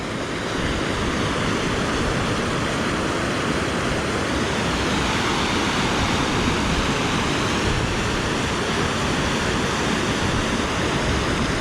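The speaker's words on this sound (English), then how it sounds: "A lot of water flowing." A flooded creek spills over a small concrete wall and spillway, making a loud, dense, unbroken rush of water close by for the whole stretch, with no voices.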